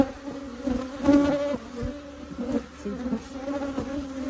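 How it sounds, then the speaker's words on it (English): Honeybees buzz steadily throughout a beehive inspection, a dense close hum with rising and falling intensity, with a brief spoken word partway through. "There's not a lot of bees in the basket here."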